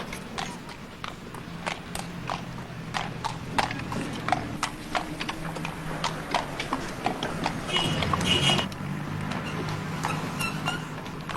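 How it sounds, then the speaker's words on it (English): Horse hooves clip-clop steadily along a Dublin street in 1983 at Angel Street, a close, regular walking rhythm of sharp hoof strikes over low traffic rumble, with a faint voice nearby. "give way to horse traffic there"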